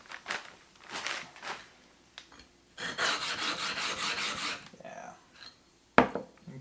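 Glass grinding on a 6-inch telescope mirror with 80 grit makes rough, gritty rasping strokes in uneven bursts, close and moderately loud, ending with a sharp knock.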